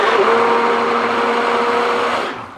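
An immersion blender whirs steadily through cold process soap batter made with natural clays, a loud continuous motor drone that winds down at the end.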